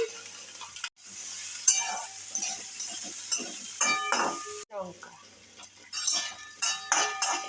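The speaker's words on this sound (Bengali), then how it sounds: "পেঁয়াজ রসুন লঙ্কা সব ভাজা ভাজা হয়ে গেছে" Garlic, chilli and onion fry in a pan for a jute leaf dish, a soft sizzle under repeated close scraping and stirring of a utensil against the pan, with occasional metallic clinks.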